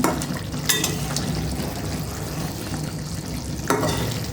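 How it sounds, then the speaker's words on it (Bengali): Shrimp kofta curry stirred gently in a wok, a steady bubbling sizzle with soft scraping strokes of the spatula, a few sharper clinks against the pan, close and continuous. "কড়াইয়ে যেন লেগে না যায়, এভাবে হালকা করে লাড়িয়ে চাড়িয়ে নিতে হবে।"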